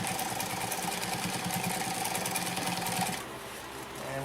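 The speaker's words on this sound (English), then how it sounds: "Just back tack over that seam a couple times." A Consew P1206RB industrial upholstery sewing machine back tacks over a seam, its needle mechanism running in a steady fast mechanical rhythm, close and fairly loud, then slowing and easing off near the end.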